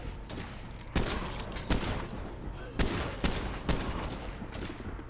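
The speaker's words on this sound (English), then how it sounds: "Switch to the shotgun or start with the shotgun." Repeated shotgun blasts in State of Decay 2 gameplay, about six heavy shots spaced roughly a second apart, loud and close over a dense rumbling background.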